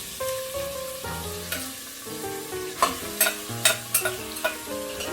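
Chopped meat sizzles as it is stirred over a barbecue, frying hiss and sharp scraping strokes growing more frequent toward the end, under a layer of steady background music, with no voices.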